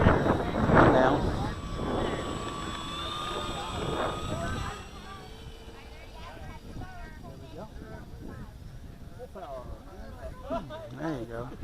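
An electric RC model airplane takes off, its motor a rising whine that fades as it climbs away. Wind noise is heavy at the start, and people talk over the later part.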